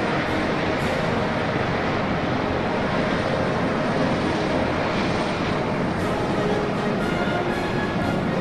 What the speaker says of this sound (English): the second group of 24 helicopters form the number 90, representing the 90-year history of the PLA